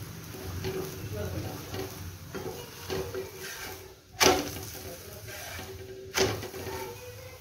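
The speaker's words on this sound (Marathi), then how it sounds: "आता दोन्ही बाजू छान भाजून घेणार आहे" Taro-leaf thalipeeth roasting in a pan gives a soft, steady sizzle, broken by scraping stirs and two sharper clinks or spatula taps, close by with no voices.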